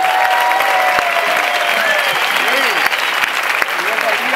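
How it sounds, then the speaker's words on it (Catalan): A crowd at an outdoor 15M movement general assembly in Terrassa claps together, loud and continuous, with scattered voices and whistle-like tones mixed into the clapping. "aplaudim-nos!"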